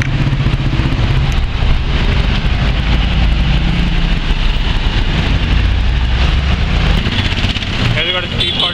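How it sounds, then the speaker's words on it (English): A Mercedes G-Wagon drives past on a busy street, its engine a steady loud rumble blended with heavy traffic and other vehicles, with a brief higher whine near the end. "Has you got a G-Wagon going past?"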